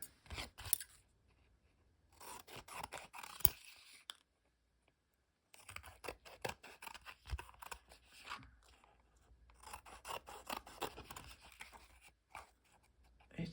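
Scissors trim the edges of a craft piece, with irregular bursts of close, crisp snipping and crunching separated by brief pauses, quiet and without talk.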